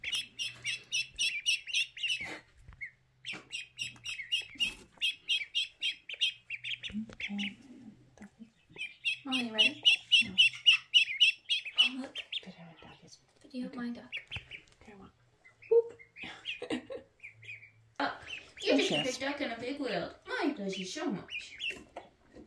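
High, rapid peeping from several week-old ducklings in close bursts, with children's voices talking and exclaiming between and over the calls.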